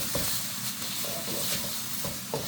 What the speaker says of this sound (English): Minced garlic and ginger, and we're going to throw that all in there as well.